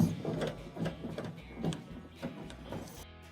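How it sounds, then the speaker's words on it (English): Phillips screws being backed out of a dryer top with a screwdriver, repeated ratcheting clicks in a steady rhythm, close and clear with no talking. "we have 2 Phillips screws that have to be taken out"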